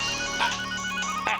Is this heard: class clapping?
no